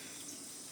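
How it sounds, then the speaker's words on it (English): Kitchen tap water running steadily into a sink while food is rinsed, a soft, continuous broadband hiss at low level with no other sounds. "I'm gonna rinse it up."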